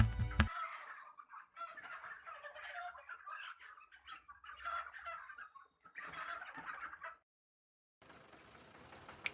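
Poultry clucking and calling close by in several bursts, with a short silent gap before quieter background noise returns.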